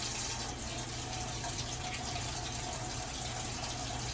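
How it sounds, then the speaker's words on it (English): Warm tap water runs steadily into a sink ahead of hand hygiene, a constant close rushing flow that stays even and unbroken throughout with no talking. "I'm going to turn the water on, adjusting the temperature to a warm and comfortable temperature."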